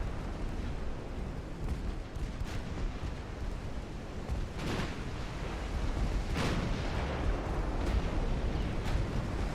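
Warship secondary guns keep firing in the naval battle game Ultimate Admiral Dreadnoughts, a steady, dense rumble of cannon fire with a few sharper booms standing out.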